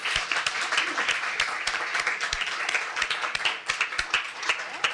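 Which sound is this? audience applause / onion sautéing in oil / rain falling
audience applause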